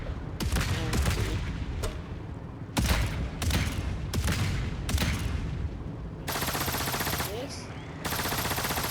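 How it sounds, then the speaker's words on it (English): Loud bursts of automatic machine-gun fire in the game Trailmakers, in quick rattling volleys, with explosive booms and echoing rumble between them, close and intense. "Some machine guns just sound so modern"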